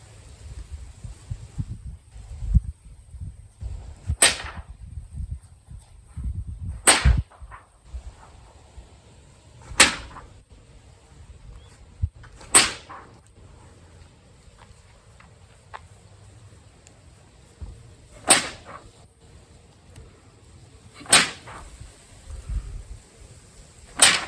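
Sharp snapping cracks from a Shotokan karate training tool ring out one at a time at irregular intervals, about seven crisp strikes over quiet background shuffling and low rumble.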